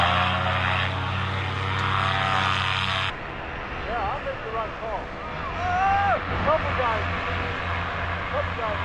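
Small propeller airplane engine at a fly-in, a steady droning hum that shifts in pitch and tone partway through as throttle is added, heard close with people talking over it.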